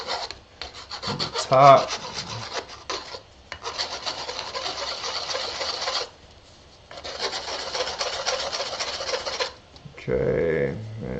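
The cut edge of a plastic Nalgene bottle that burst is deburred with repeated close, scraping strokes in several runs separated by short pauses. A brief spoken remark comes near the start.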